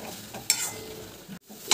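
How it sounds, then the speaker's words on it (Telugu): Gongura leaves fry and get stirred in oil, a close sizzle with a couple of sharp scraping stirs and a brief dropout near the end. "కడిగి గోంగూర వేసేస్తున్నాను కలుపుకున్నానండి"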